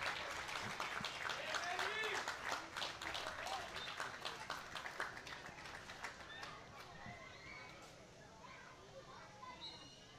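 A crowd at a women's college soccer match applauds as the goal scorer leaves the field; the clapping rolls along fairly faintly in the distance, mixed with crowd noise and a commentator's voice, then thins out toward the end.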